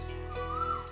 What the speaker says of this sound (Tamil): இது மைனாவோட குரலாச்சே.